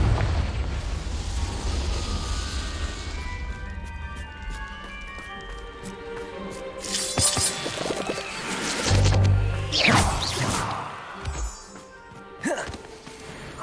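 A Confringo blasting spell goes off in the Hogwarts Legacy video game, a burst of booming, crackling blast noise over game music, with louder surges of explosion from about the seventh second onward.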